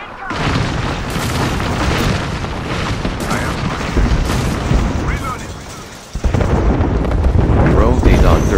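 Loud, continuous booms, bursts and gunfire of an Apex Legends battle roar densely and close throughout, with a sharp blast near the end and a voice talking underneath.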